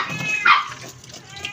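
A pet dog yips and barks briefly at close range, one sharp high bark standing out amid low indoor background noise.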